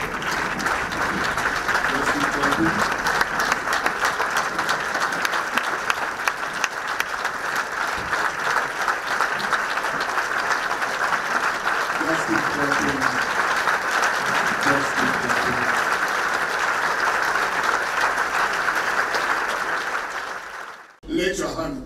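Sustained applause fills a church service as a retired archbishop departs, a steady, even roar of many hands clapping for about twenty seconds, with some talking underneath, before cutting off abruptly.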